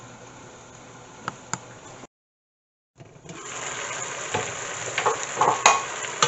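A pot of boiled chana (chickpeas) being stirred, with soft scraping and bubbling, light clinks near the start, then a short silence before a louder, steady stretch of stirring and simmering close by.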